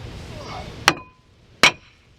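Two sharp metallic hammer blows on a Dodge Caravan brake rotor during a brake job, close and loud, spaced under a second apart with ringing tails and a quiet garage background between.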